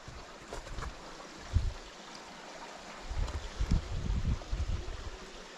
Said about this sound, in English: this is where the stream comes down